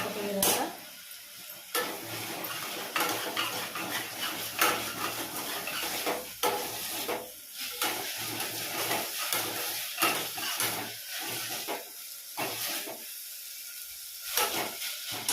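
Mint and coriander fry in a pan with a continuous crackling sizzle, broken by frequent scraping and clinking of a spoon stirring against the pan, close and moderately loud.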